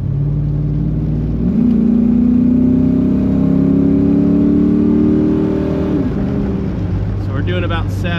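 A 1980s-style Jeep Grand Wagoneer swapped to a GM LS1 V8 with a modern automatic cruises at highway speed, its engine droning steadily and rising in pitch, with road and wind noise and someone talking over it.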